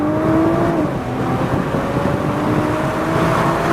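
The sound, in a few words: sports car accelerating hard down a race track straight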